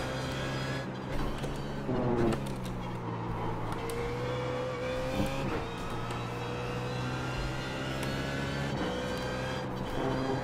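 GT3 race cars battle in the video game iRacing at Road Atlanta, several engines droning and shifting pitch together in a continuous close pack with occasional gear changes, no voices.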